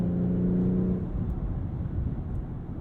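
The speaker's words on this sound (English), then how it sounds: "This 8-speed automatic gearbox is just queued up perfectly to drop down when necessary" A 2022 BMW X3 M40i SUV engine drones steadily as its 8-speed automatic gearbox downshifts, a sustained tonal hum at first giving way to a broader rumbling whir, heard from inside the cabin with no voices.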